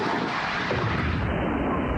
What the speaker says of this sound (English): Hamas has continued to fire rockets from Gaza into Israel.